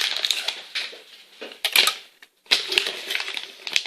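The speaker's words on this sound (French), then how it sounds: "Donc je coupe mon beurre." Butter being cut with a knife for a Christmas chocolate truffle recipe, giving crisp, crunchy slicing and tapping strokes in uneven bursts, close and fairly loud, with no talking.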